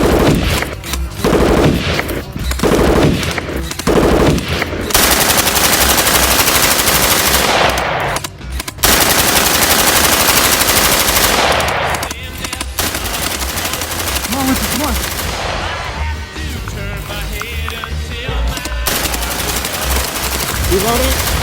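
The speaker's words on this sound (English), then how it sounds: "Returning fire." Sustained bursts of machine gun fire in a combat setting, loud, rapid and continuous for over twenty seconds with brief gaps, while voices shout over the gunfire.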